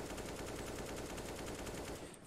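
Sustained automatic spray from a rifle in the video game CS:GO, fired past the eighth shot, a dense rapid stream of shots at steady volume with no pause until a slight drop at the very end.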